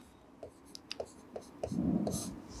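Marker strokes on a board as a physics problem on gravitation is worked out, a few short scratchy taps followed by a longer squeaky stroke, close and quiet under faint room noise.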